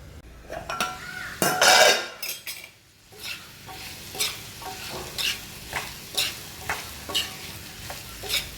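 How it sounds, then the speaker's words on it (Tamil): Boiled jackfruit seeds fry in a pan with a steady sizzle while a utensil stirs and scrapes them, knocking against the metal in repeated rhythmic strokes, up close and clear, without talking. "ஏற்கனவே வேக வச்ச பலா கொட்டனால சீக்கிரம் ஃப்ரை ஒரு மூடி போட்டு முடிங்க அப்பப்போ கிளறி விடுங்க"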